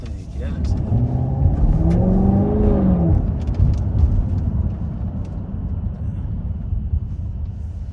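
A 2024 Chevrolet Camaro 2SS 1LE V8 rumbles and revs up while driving, its engine note rising in pitch over the first few seconds and then easing into a steady low cabin drone, with a voice talking over it.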